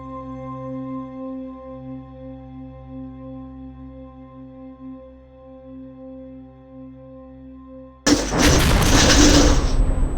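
A sudden loud rocket blast in a first-person shooter game, a dense explosive burst erupting after several seconds of steady humming game ambience and continuing as a rumbling roar to the end.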